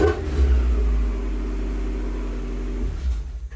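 A 1994–1997 Mazda Miata NA8 engine idles and gives a single short rev close by in a garage, a deep rumbling swell that settles back to a steady idle hum.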